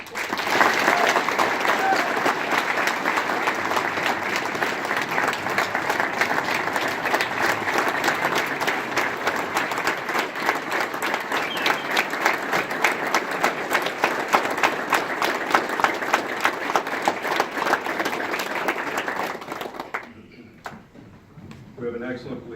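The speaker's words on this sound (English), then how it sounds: "let's give all these people a round of applause" Long, steady round of applause from an audience at an event welcoming a new police chief, loud and even for about twenty seconds before fading into a few last scattered claps.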